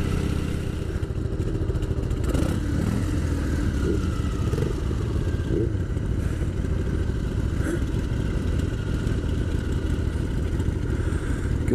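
KLR motorcycle on the road, its steady mid-pitched engine drone constant and close throughout, with wind rumble and a few clattering bumps layered on top.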